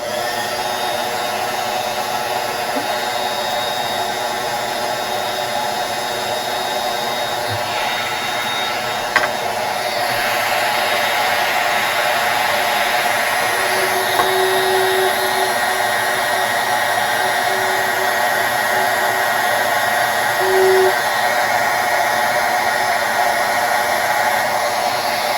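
A hair dryer blows steadily at close range to dry a Dollar Tree Christmas craft, a constant even whoosh lasting throughout with no talk.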